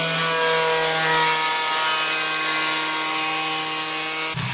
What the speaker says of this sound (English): I'm just going to begin doing the sanding.